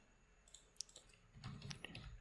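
A few soft, quiet mouse clicks on the add button of a to-do list web app, spaced out over faint background noise.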